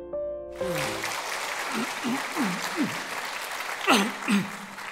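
Applause from a church congregation during a Sunday sermon, steady broadband clapping filling the space at moderate level, with a voice speaking intermittently over it.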